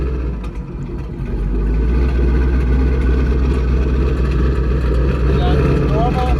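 Twin-turbo 2019 Mustang GT engine starts and settles into a loud, deep idle rumble close by, holding steady throughout.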